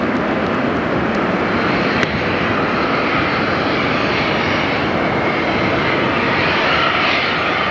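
A jet airliner's engines roar steadily at Fort Lauderdale airport, a loud, continuous broadband rumble and whine from a nearby aircraft that persists throughout with no talk.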